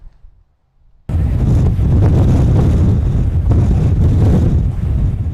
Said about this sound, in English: The wind howled through Flagstaff Monday, at times gusting to 65 miles an hour.